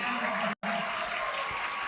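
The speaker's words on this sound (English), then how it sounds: "as you can hear the crowd giving these starters, Jacob Bettinger, all the starters of the team, a standing ovation" A basketball crowd at a high school game, South Kitsap Wolves vs Bremerton Knights, gives the starters a standing ovation: dense, sustained clapping and cheering from many people, briefly cut off before resuming.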